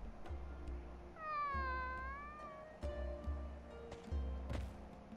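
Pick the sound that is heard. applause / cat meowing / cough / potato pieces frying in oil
cat meowing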